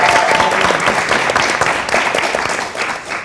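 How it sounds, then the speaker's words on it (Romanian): A studio audience applauds on a Romanian television show, steady dense clapping that stays loud throughout and tapers slightly at the end. "vă rog aplauze pentru Alina."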